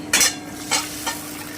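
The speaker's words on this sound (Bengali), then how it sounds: "এবারে আমি মাংসটা ঢেলে দিচ্ছি" Mutton pieces fry and are stirred with browned onions in a pan, giving three brief scraping, sizzling bursts over a low, constant frying hiss.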